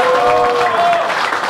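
Audience applause at a rally event, a short burst of steady clapping from a crowd, with a brief tonal sound near the start.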